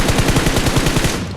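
Rapid automatic gunfire in the mobile game BGMI, a fast steady stream of loud close shots repeating for the whole moment with no talk over it.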